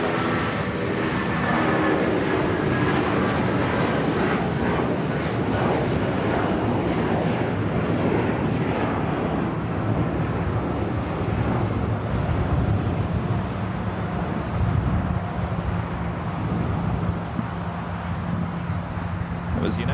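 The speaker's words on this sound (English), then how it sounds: "United 757-300 heading to Chicago here, flight 1069." A United Boeing 757-300 jet departs LAX for Chicago, its engines a loud, sustained roar that swells and holds for the whole stretch, with voices talking faintly over it.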